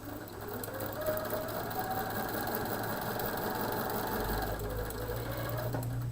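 A sewing machine runs steadily, stitching quilt fabric toward a 60-degree diamond point: a close, continuous rapid whir that shifts pitch slightly near the end as the stitching slows.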